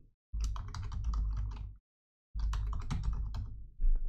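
A password is typed on a computer keyboard in two quick bursts of close, crisp key clicks separated by a short silence, with a final clatter at the end.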